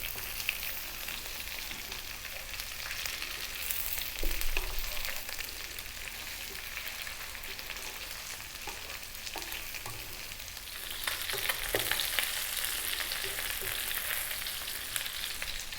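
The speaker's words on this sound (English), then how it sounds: "And then we add the fish. We're going to toss this around gently for 2 minutes." Fish tossed in a hot pan over high heat sizzles and fries steadily, with occasional scraping and stirring bursts and a louder hiss toward the end; no one speaks.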